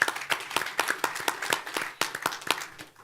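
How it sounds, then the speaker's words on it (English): A small keynote audience gives a sparse, uneven round of applause, individual claps distinct and fairly close, scattered hands rather than a full crowd, fading quickly. "So let's give Del a nice round of applause"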